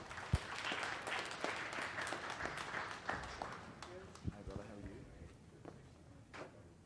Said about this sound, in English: A round of applause for Hervé